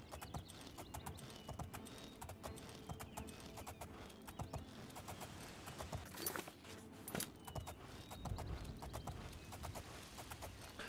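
Rapid clip-clop of horse hooves in the game Oblivion runs continuously over a busy, dense background of ambient game sound, with no talking.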